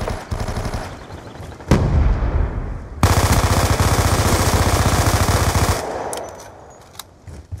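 Heavy automatic gunfire from Call of Duty Black Ops 2, loud and close, in dense sustained bursts with a brief gap before a long continuous volley that trails off into scattered shots.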